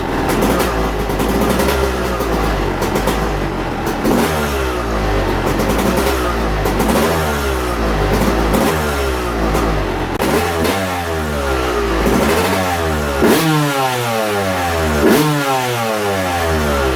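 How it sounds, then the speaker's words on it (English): A two-stroke dirt bike engine fitted with a Keihin PWK38S carburetor runs close and loud, revving repeatedly in rising and falling sweeps with rattly clatter throughout. "let me throw some gas in it and give it a test fire"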